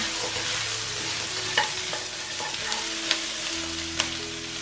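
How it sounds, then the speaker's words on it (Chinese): Razor clams stir-fried in a wok with salt and pepper seasoning, a steady close sizzle broken by a few sharp spatula scrapes and clinks, with no talking. "再来一点点椒盐粉， 再次翻炒均匀就可以出锅啦"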